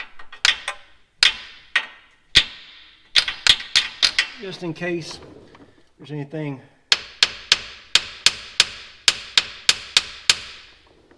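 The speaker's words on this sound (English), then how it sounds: "I'm gonna give them a little baby tap with a hammer" Sharp hammer taps on a 3rd-gen 4Runner drain bolt come in irregular clusters, then a rapid even run of a dozen strikes, with someone briefly speaking in the middle.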